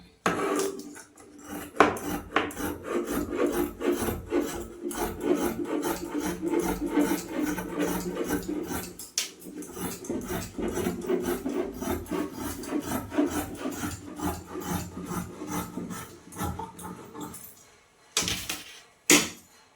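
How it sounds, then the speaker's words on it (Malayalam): Fabric for a halter-neck kurta is being cut, giving a continuous close rasping, scraping texture with repeated strokes and brief pauses, fairly steady in loudness, with no voices. "എന്നിട്ട് നമുക്കിത് കട്ട് ചെയ്തെടുക്കാം."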